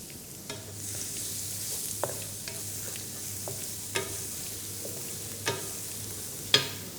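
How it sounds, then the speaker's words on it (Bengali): A spoonful of chopped garlic fries gently in oil over slow heat for mushroom pasta, a soft continuous sizzle punctuated by several sharp spatula scrapes and taps against the pan. "আমরা চপ গার্লিক একটু ফ্রাই করে নিব"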